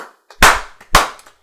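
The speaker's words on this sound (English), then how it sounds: "clapping right next to the mic" Two sharp, loud hand claps right beside the microphone, spaced about half a second apart, each a crisp slap with a short decaying tail.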